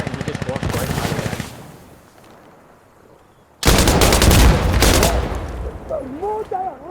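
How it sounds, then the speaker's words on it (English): Gunfire in Insurgency: Sandstorm, loud close bursts of rapid shots that fade into quiet, then a second sustained volley, with a voice chattering briefly at the end. "She's shooting the dead body. Is that teammate shooting?"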